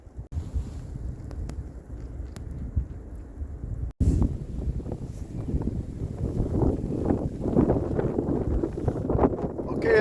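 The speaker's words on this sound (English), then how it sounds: "this is a full-blown blizzard now. The wind is blowing like crazy." Blizzard wind during a bomb cyclone winter storm roars constantly outdoors, loud and buffeting against the microphone with gusts building in the second half, while a person talks over it.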